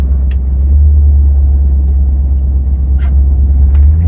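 Engine of a 1970s custom Chevy van rumbling steadily while driving, a loud, close low drone with no speech.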